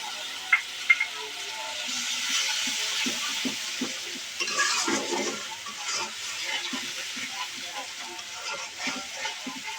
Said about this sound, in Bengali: মশলাটা বাদামি রঙের হয়ে গেলে একটু পানি দিয়ে দেবো